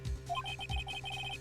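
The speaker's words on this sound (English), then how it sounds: "I heard a phone ringing just now." A brief, quirky electronic phone ringtone from an Ace Attorney fan-made video game, a repeating pattern of bright beeping tones that pulse steadily over a faint low backdrop.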